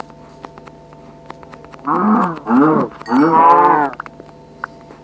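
A cow from the Minecraft video game moos three times in a row, each call loud and close with a short gap between, over a quiet background with no talking.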